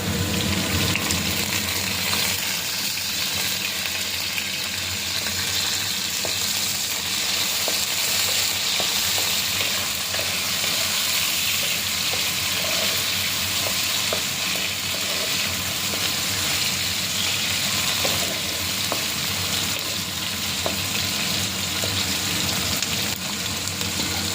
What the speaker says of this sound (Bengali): এবার আমি এর সাথে দিয়ে দেবো এই যে কেটে রাখা লঙ্কা আর টমেটো